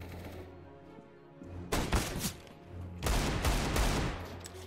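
Gunfire in Counter-Strike: Global Offensive on the Dust2 map, two loud bursts of rapid automatic shots, the first lasting about a second and the second running longer, over a low background hum.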